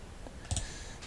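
A single soft click of the B key on a computer keyboard is pressed once, faint and close, in quiet room tone.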